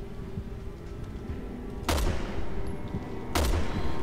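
Two bursts of video-game gunfire from Resident Evil 6, fired at enemies' weak points, ring out loud and sharp over a steady low background hum, the second burst about a second and a half after the first.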